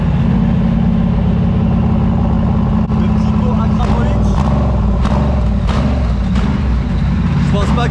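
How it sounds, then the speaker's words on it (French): A loud race car engine rumbles steadily at a high idle while warming up, revving slightly, with faint clicks and mechanical noise over the drone. "La chauffe de la voiture."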